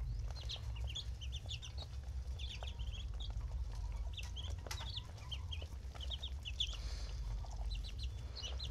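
Muscovy ducklings peeping and chirping in quick high bursts while they eat and play around water, with a steady low background rumble and no talk.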